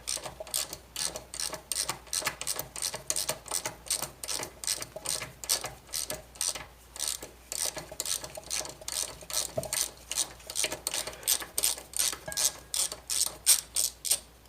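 A hand ratchet loosens a pinch bolt on the rear axle of a Honda Goldwing 1500 motorcycle, clicking in steady rapid bursts with each back-and-forth stroke, close and distinct with no talk.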